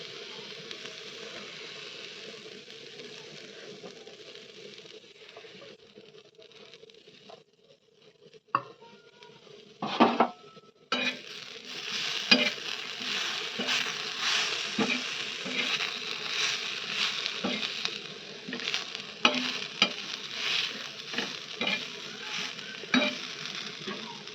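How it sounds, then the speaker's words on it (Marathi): Ginger, garlic, onion, tomato, coconut and coriander sautéing in a pan, quiet at first, then a louder continuous sizzle with repeated stirring scrapes and clatters. No voices are heard. "आता भाजून घेऊया आपण. सगळं व्यवस्थित परतवून घेऊया त्याला."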